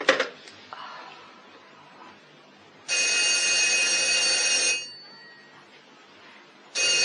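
A telephone rings loudly in a quiet room, one long ring lasting about two seconds followed by the start of a second, after a few soft brief noises.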